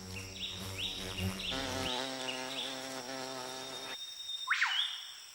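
Several insects buzz loudly and close by, their droning pitch wavering and overlapping, then one buzz fades to a thinner whine before a brief final swoop.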